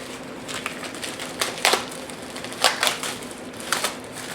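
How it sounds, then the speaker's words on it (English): A knife chops through a head of broccoli on a cutting board in a series of crisp, irregular taps, some louder strikes, close by over faint background hiss. "We got some broccoli. We'll cut some of that up first too."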